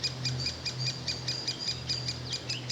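Birds singing in the English countryside on a rural walk, a close, bright series of repeated high chirps and short song phrases in a quick regular rhythm over a faint steady background hum.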